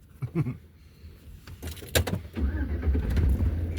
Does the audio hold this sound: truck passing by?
yes